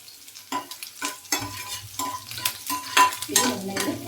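Curry leaves crackle and sizzle in hot oil in a pan, with repeated sharp spatters and stirring scrapes over a steady frying hiss, close and fairly loud, no voices.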